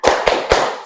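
A class does the tepuk semangat clapping routine: three sharp, loud group claps spaced evenly within a second, each with a brief ringing tail.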